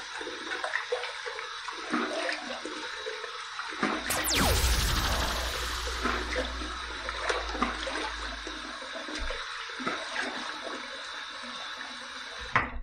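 Water runs and splashes from a tap while a face is wetted before shaving, a loud rushing surge that fades into trickling and dripping.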